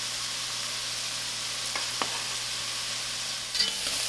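Vegetables for Turkish lentil soup fry gently in a pot with a soft, continuous sizzle, plus a few light clicks and one brief utensil clatter near the end.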